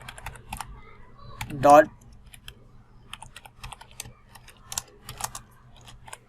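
Quick, uneven clatter of keys on a computer keyboard as JavaScript code is typed, steady light tapping with brief pauses and a short burst of voice or other noise near the start.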